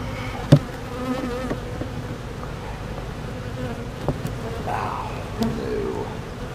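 Honeybees buzz steadily and close around an open beehive, a dense droning hum with a few sharp clicks and knocks and brief faint talk.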